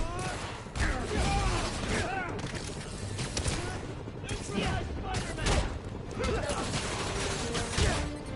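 Gunfire in the Spider-Man: Miles Morales video game, bursts of rapid shots and booms mixed with shouting voices and chaotic combat noise throughout.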